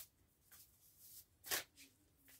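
A deck of cards is shuffled for a card reading, giving a few short, soft riffling bursts in a quiet room, the loudest near the middle.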